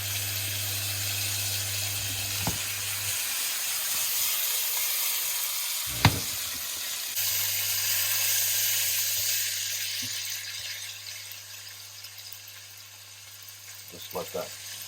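Pancetta slices and sage leaves fry in a pan with a soft, steady sizzle under a low hum, broken by a few sharp clicks and utensil taps.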